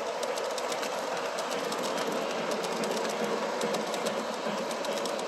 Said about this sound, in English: As the train goes over the switch at the far side